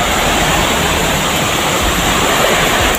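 Creek water flowing in a steady, loud rushing wash, close by and continuous, with no voices over it.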